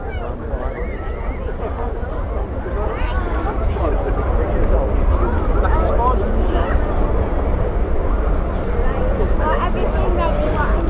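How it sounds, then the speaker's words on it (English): Boeing 737-800 jet engines at Manchester Airport, a steady, fairly quiet broadband roar from a little distance, mixed with wind buffeting across the microphone. "And this is just a Boeing 737-800"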